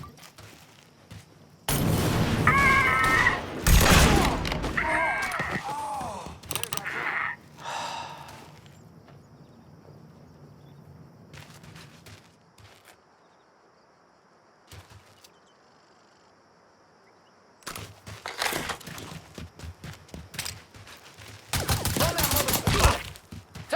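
Gunfire in the crime action game Mafia III comes in loud clustered volleys near the start, a long quieter lull with a few isolated shots, then renewed heavy bursts toward the end.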